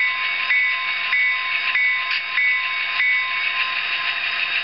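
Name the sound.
Locomotive bell sound from a Tsunami DCC decoder in an Athearn N-scale FP45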